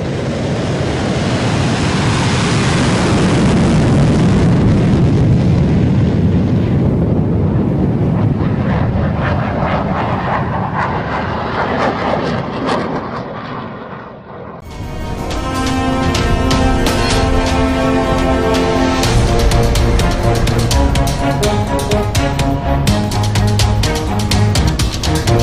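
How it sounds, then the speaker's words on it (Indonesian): Loud roaring jet engine noise with heavy wind rush from a Sukhoi jet landing on an aircraft carrier, which cuts abruptly into a different, brighter engine whine with strong tonal harmonics. "Freestyle ala Sukhoi saat akan mendarat di kapal"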